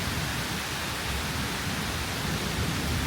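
Heavy pouring rain makes a dense, steady hiss with no breaks, loud and enveloping throughout.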